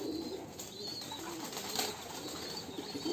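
Farm pigeons splash while bathing, with bursts of wing flapping and water spray over a steady wash of noise, and soft cooing faintly in the background.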